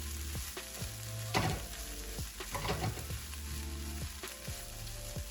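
Vegetable fried rice with veggies sizzles steadily in a hot pan while being stirred and tossed, with scraping clatters of the utensil at irregular intervals over the continuous frying.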